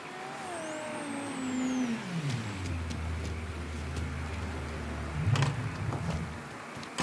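A car engine in Mafia 3 warms up, with an idling hum that dips in pitch and settles into a steady low drone, fairly close and moderately loud, plus a few clunks near the end.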